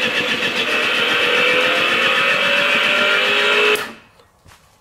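A 24-volt variable-speed Powertech Slammer motor runs with a loud, steady high-pitched electric whine for several seconds, then cuts off abruptly and winds down into near silence.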